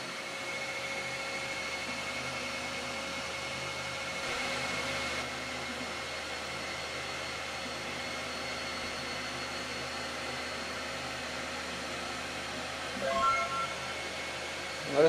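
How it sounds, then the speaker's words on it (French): An ORTUR Laser Master 3 laser cuts a logo out of roughly 6 mm corrugated cardboard, giving a low, steady mechanical hum with faint whirring and a few soft clicks, continuous and fairly quiet, with no talking. "On va voir ce que donne la découpe de mon logo dans du carton ondulé d'environ 6 mm."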